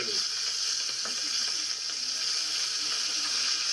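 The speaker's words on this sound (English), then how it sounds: "Olive oil, and we put our onions in. Okay, sizzle, sizzle the onions they go." Steady bright sizzle of onions frying in hot olive oil, continuous and close, with faint crackles throughout and no talking.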